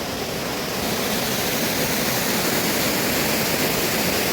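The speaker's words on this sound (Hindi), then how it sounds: "देख रहे हो आप पीछे, यहाँ से पानी बाहर आ रहा है" Water flows out beside the ancient Saho Shiv temple in Chamba, a constant, even rushing wash that fills the whole clip with no voices.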